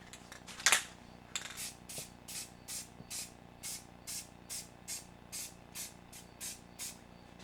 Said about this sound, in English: I'm gonna spray a little bit of orange right about here,